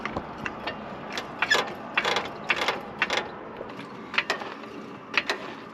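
Floor jack raising a Toyota truck with a failed lower ball joint, outdoors: irregular close metallic clicks and ratcheting clanks of the jack handle pumping, moderately loud with no talk.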